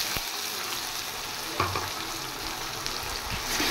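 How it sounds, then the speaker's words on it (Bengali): Onion paste frying in a pan with a garlic clove, a steady broadband sizzle with occasional stirring scrapes and clatter, close and continuous with no talking. "এবার পেঁয়াজ পেস্টটা আমি আবার ফ্রাই করব।"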